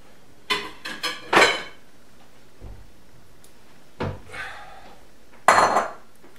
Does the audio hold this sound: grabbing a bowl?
yes